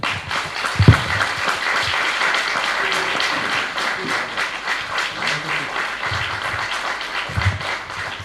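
A theatre audience applauds actor Marcelo Saltal of Liber Teatro, the clapping moderate and sustained throughout, with a few louder thumps and a brief voice partway through.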